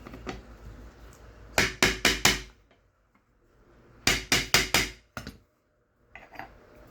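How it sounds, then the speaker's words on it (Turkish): Holes are punched for stitching a handmade case, heard as two close sets of four sharp, evenly spaced hammer strikes on a tool, with quiet between them. "Yine 3 tane delik deliyorum."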